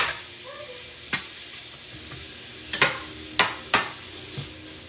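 Onions and bacon cook down in a pan, a soft steady sizzle broken by several sharp clacks of a spoon or spatula against the pan, close by, with no talk.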